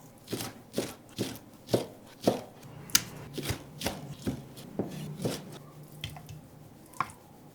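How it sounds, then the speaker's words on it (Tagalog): Knife strokes chop through raw cream dory fillet on a cutting board, about a dozen sharp moist thuds in a steady rhythm, close and clear with no voices. "Hiwain natin ng medyo maliit ito."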